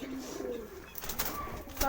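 A domestic pigeon kept at home gives soft, low, rolling coos close by, with faint rustling and a brief flutter-like rattle toward the end.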